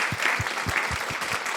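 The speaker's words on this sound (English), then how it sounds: "Clap it up for us." A small podcast studio audience claps for the hosts, a short burst of brisk hand claps over a hissy background, moderately loud and close, with no voices over it.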